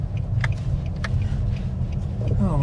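A car rolls along a small-town street in Ellaville, Georgia, its steady low engine and road rumble continuous and close, with faint voices talking over it.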